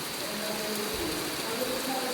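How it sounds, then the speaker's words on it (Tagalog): Steady rain falls on farmland with a house and terrace, a continuous even hiss without breaks, fairly close, with faint low background sounds underneath. "unang ulan ng August"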